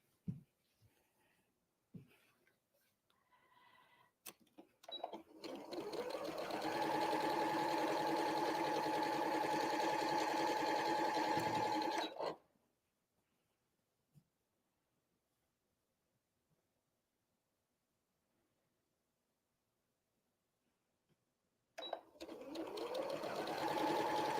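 A sewing machine runs steadily for about seven seconds joining quilt strips, close and even, then stops for a long quiet stretch before starting up again; a few small handling clicks come before the first run.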